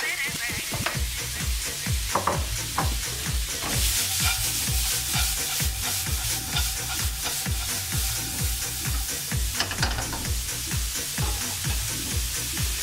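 Carrots fry in olive oil in a pan, a loud, continuous sizzle layered with rapid crackling pops, close and unbroken throughout.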